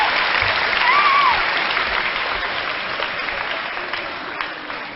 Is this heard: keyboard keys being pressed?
no